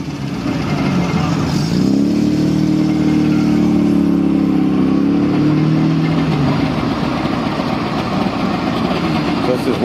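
A small Goggomobil car at an old crock run drives off smoking, its engine running loud and close with a rising then falling drone against outdoor noise. Someone talks over it.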